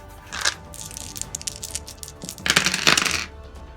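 Two dice rolled during a tabletop wargame battle, clattering in sharp rattling bursts: a short knock, then scattered clicks, then a louder tumbling rattle near the end, close by and with no talking.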